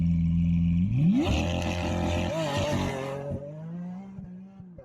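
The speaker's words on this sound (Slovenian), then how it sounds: "čist norih avtomobilov, ki se pelje na štart" High-performance cars, including a 750-horsepower V10 Audi, rev loudly at a drag race and roll toward the start line. One engine climbs sharply in pitch into a roaring surge, then settles back to a lower idling drone.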